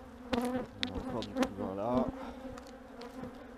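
Honey bees buzz around an open hive with brood in the frames, a close, wavering hum of many insects while someone speaks quietly over it.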